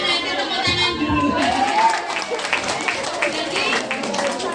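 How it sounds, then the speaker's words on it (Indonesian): An indoor audience breaks into applause amid crowd noise, with scattered clapping building after a moment and voices talking and calling out over it throughout. "Saking semangatnya tepuk tangan dulu."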